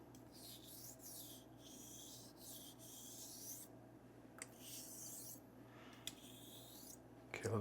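A J.A. Henckels knife stroked across a wet Butterscotch Arkansas stone makes a quiet, steady series of rasping passes in even rhythm, close and soft, with a faint hum underneath.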